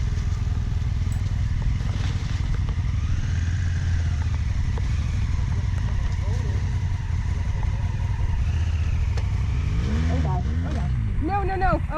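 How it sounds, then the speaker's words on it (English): Motorcycle ridden uphill on a rocky trail on Otay Mountain, a steady engine drone with rising revving strains near the end, loud and continuous, with people's voices mixed in. "Perry, not a stranger to picking up my motorcycle, unfortunately, offered to ride it uphill real quick into a wide spot"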